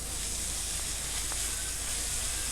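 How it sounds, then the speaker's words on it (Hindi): Minced meat with dried coriander fries in a pan, giving a steady, dense sizzle and hiss that holds at an even level throughout, with only a faint tick or two of stirring. "तो हम अब इसको अच्छी तरह से भूनते हैं।"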